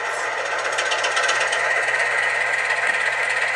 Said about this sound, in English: panning the main engine sound, which is mono and normally panned centre, from one speaker to the other